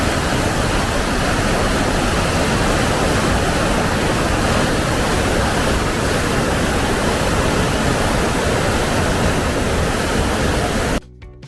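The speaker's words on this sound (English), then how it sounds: "We've done a little bit of recording of the rapid sounds to give you an idea of the volume we're talking about." Loud rapids of a waterfall in a Norwegian fjord, a dense, unbroken roar of rushing water close by that holds steady throughout and cuts off abruptly at the end.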